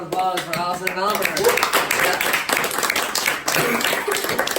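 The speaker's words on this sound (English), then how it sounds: "Grab another round of applause for Allison and Amer." A crowd claps and applauds steadily throughout, a dense patter of hands with a voice rising over it near the start.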